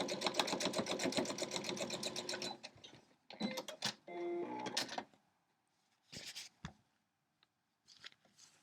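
A sewing machine stitches fabric shreds back onto a scrappy quilt block, running in a fast close whir for a few seconds, then short bursts and clicks of handling, with quiet gaps between.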